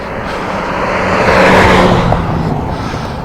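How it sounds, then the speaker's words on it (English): A delivery truck rolls past on a road, its broadband rumble swelling to a peak midway and then easing off as it moves away, with no voices over it. "Here comes an Amazon truck. He'll run you over."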